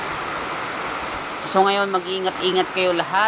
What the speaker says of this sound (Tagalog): Mag-iingat ng lahat dahil sobrang lakas talaga ng ulan guys.